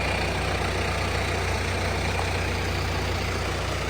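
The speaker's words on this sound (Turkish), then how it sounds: "Dört traktör ilaç yapıyoruz arkadaşlar." Farm tractors, including a New Holland TD100 and a 5105, run in wheat fields while spraying against rust disease, giving a steady, loud, unbroken engine drone with no talk over it.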